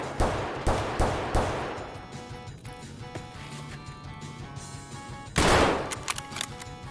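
Mosin rifle shots in Escape from Tarkov: a quick cluster of several sharp cracks early on, a quieter stretch of background game sound, then another loud shot with its echo.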